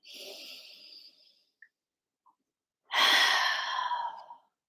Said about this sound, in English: Exhale just as slowly through your mouth.